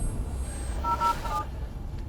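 A few short phone dialing tones beep in quick succession against a low rumbling background, brief and moderately loud, followed by quiet.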